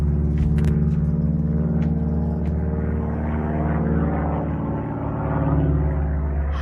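A small propeller plane flown by a 90-year-old pilot drones steadily with a deep, continuous engine rumble, fairly loud and close throughout, swelling slightly in the final seconds.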